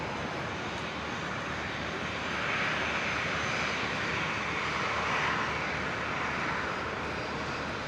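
Jetstar Airbus A321 jet at Brisbane airport, bound for Auckland, gives a steady broadband engine roar that swells slightly midway, sustained and fairly distant with no voices.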